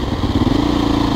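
A motorcycle engine runs loud and close, a rough, steady idle with a rapid throbbing pulse and no voices over it.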